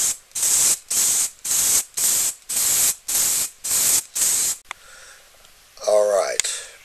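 Second coat of spray paint going onto the cabinet of a Sony CDP-M42 CD player, eight steady hissing bursts of about half a second each with short gaps between, close and loud, followed by quieter handling noise and a brief voice.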